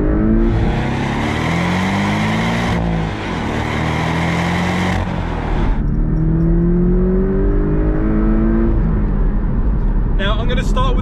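A Porsche 718 Cayman T's engine hums steadily while driving, a constant low drone beneath someone talking throughout.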